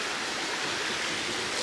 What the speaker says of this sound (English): there's a nice creek flowing through under this bridge